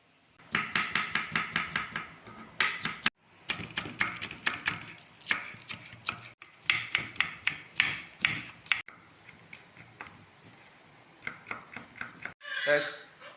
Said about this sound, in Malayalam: ബാക്കിയുള്ള സവോളയും തക്കാളിയൊക്കെ ഒന്ന് കട്ട് ചെയ്ത് എടുക്കാം